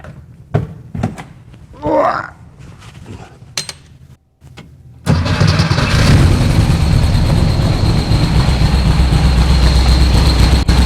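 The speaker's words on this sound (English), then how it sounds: "Turn the key, see what happens." A 1964 VW Beetle air-cooled engine fitted with Empi dual carburetors turns over and catches about halfway through, after a few thunks and a brief whine, then settles into a loud, steady, close-up idle that runs to the end.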